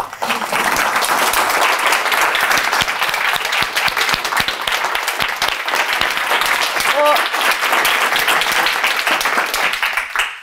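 An audience applauds after a talk with a sustained, full burst of clapping throughout, a voice speaking over it before it fades out at the end.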